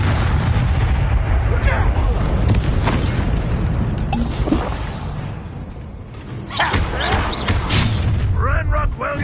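Incendio fire spell cast in the Hogwarts Legacy video game, heard as loud booming, crackling blasts with whooshes that pile up through the whole stretch amid dense battle noise, with a voice speaking over it.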